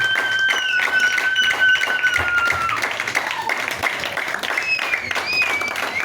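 A church congregation stands and claps to acclaim the Lord, steady rhythmic applause filling the room while voices sing and talk over it.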